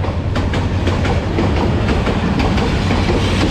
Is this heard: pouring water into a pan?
no